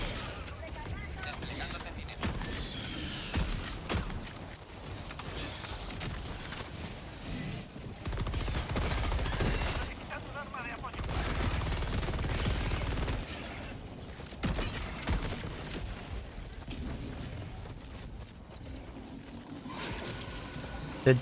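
Gunfire from shooting at enemies in a video game rolls on in sustained bursts of dense, rumbling shots at moderate loudness, swelling in the middle, with game noise and talk mixed in.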